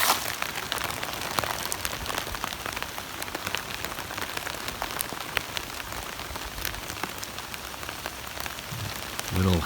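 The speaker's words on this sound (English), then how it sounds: "It's the pitter patter of snow." Snow and little hail patter steadily on a surface at a spring campsite, a dense, continuous crackle of small ticks that lasts throughout without talking.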